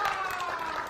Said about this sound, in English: I don't know why you're clapping like someone who's obedient slave